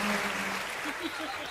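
Brief burst of audience clapping at a Hindi comedy poetry show, a dense wash of applause filling the whole moment, with a voice faintly audible underneath.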